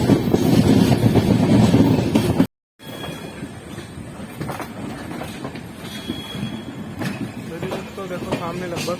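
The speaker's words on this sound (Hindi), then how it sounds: "ट्रेन आने वाला है।" An Indian express train rumbling and clattering on its rails as it comes into a station, loud at first, then a brief cut and a steadier, quieter rolling with faint squeals and people talking.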